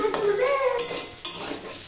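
Peas, cauliflower and potato stir-frying in a pan for veg chowmein, a loud close sizzle with sharp spatula scrapes and clinks against the pan.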